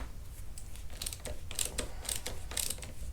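Ratchet wrench tightening aluminium handlebar riser clamp bolts on a Honda Grom, quick dry clicking strokes in short repeated bursts, close by, with no voices.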